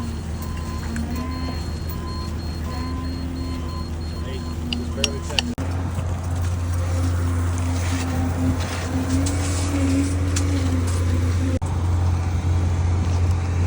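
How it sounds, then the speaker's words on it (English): Concrete pump truck running steadily at a construction site during a monolithic floor pour for a big shop building, a continuous low diesel drone throughout with faint site noise and speech, and a brief clunk near the middle. "We got the pump truck here."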